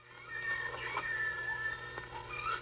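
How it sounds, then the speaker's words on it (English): Baby lion cub in a 1949 film, giving a thin, strained growling whine with a wavering tonal cry, fairly faint and alone over a steady low hum. "That's just a little baby lion."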